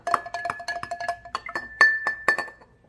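A spoon stirs an apple cider vinegar and water drink in a glass, giving a quick run of bright clinks and taps against the rim that ring briefly, close and clear.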